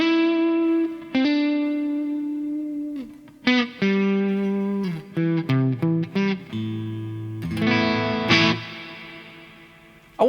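Electric guitar played through a Neunaber Immerse Mk1 reverb pedal on its wet setting: sustained single notes and short melodic phrases bloom into long, lush reverb tails that hang and overlap between picked notes, heard alone and up close.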